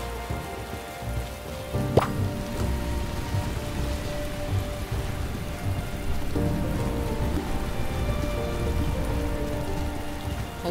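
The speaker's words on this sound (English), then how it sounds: "It rains like this all the time." Steady rain falls throughout in the farming video game Paleo Pines, a dense, even patter of drops on surfaces at moderate loudness with no talking, and a brief tonal blip near the start.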